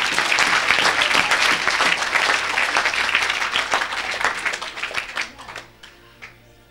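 A congregation at a worship gathering applauds for Jesus, dense sustained clapping from many hands that thins out and fades near the end.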